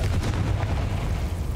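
A Confringo fire blast spell from the Hogwarts Legacy video game, a short, heavy booming burst with a rumbling low end, loud and close.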